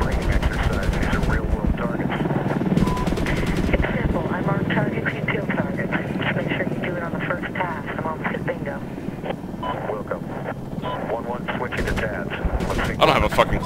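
Gunfire from the 2010 Medal of Honor video game rattles through a dense battle mix with aircraft rumble, continuous rapid bursts, while someone talks over it.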